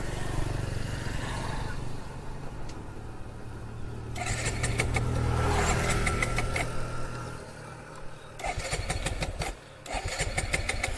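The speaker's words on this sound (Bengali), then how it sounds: "ফুয়েল অলরেডি শেষ, স্টার্ট নিচ্ছে না" A Suzuki Gixxer motorcycle that has run out of fuel cranks repeatedly, its starter whirring in long bursts with brief sputters and pauses that never settle into an idle, recorded close up.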